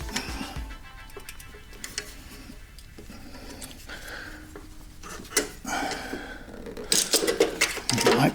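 Wrenching on a bolt of a Porsche 914 engine during engine and transmission removal, with soft metallic ticks, scrapes and rubbing clicks, close and fairly quiet, growing louder near the end.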